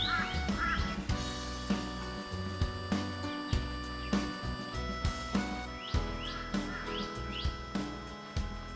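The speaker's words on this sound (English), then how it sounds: "The Teresian crows kept calling" Torresian crows call repeatedly in the outback, giving harsh, nasal caws spaced about a second apart, with fairly loud, distinct calls and no talk in between.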